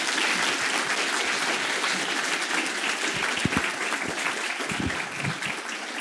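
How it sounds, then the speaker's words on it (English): An audience at RacketCon, a programming-language conference, gives a long round of applause after a talk, dense clapping filling the room, with a few low footsteps or bumps toward the end. "please, everyone, a big round of applause for Emina"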